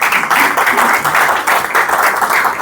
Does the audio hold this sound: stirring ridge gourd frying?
no